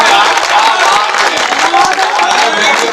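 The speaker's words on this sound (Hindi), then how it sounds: "ताली बजाओ यार" An audience at a Hindi comedy and satire show breaks into loud, dense, steady clapping, with voices mixed into the applause.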